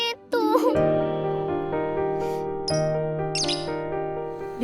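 Pet bird chirping from a tree, clear repeated tonal chirps and trills close by with short sharp calls throughout.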